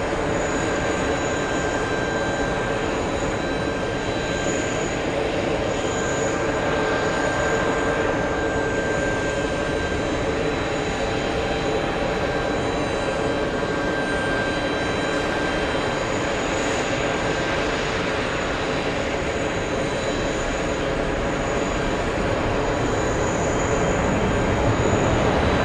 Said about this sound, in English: Next close-up arrival is Delta 732 flying in from Miami